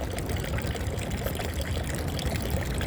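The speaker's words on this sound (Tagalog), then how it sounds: "malakas pa rin ang tubig" Water gushes strongly from a tap into a container, a dense continuous splashing pour that stays loud and close throughout with no talking.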